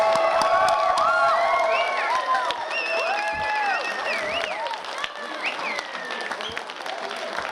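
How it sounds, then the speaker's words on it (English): A theatre audience gives a round of applause for the students and directors after the show, a sustained roar of clapping mixed with cheers, whoops and children's shouts, loud and full throughout. "Can we please give one more round of applause for our students and our directors?"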